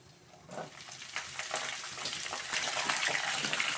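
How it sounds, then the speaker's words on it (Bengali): Potatoes dropped into hot oil for Bengali aloo dum, a steady bubbling sizzle that swells louder after the first half second and keeps spitting close by without talk. "এগুলো এখন লালচে করে ভেজে নিতে হবে"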